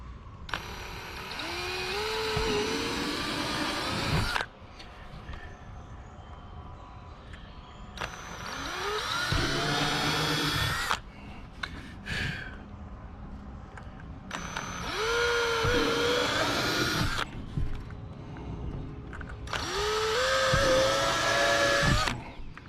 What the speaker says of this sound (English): I'm going to pre-drill my holes,